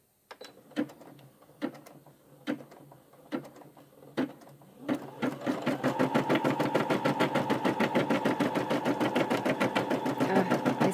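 A Brother embroidery machine stitching: first several slow, separate needle clicks at a steady pace, then a fast, even mechanical chatter that runs on loud and close.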